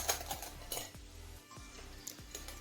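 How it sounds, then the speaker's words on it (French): Egg yolks and sugar whisked briskly in a bowl, a rapid rhythmic ticking of wire against the bowl with clinking metal knocks, close and fairly quiet. "Et je fouette donc le mélange, je blanchis pendant au moins 5 minutes les amis."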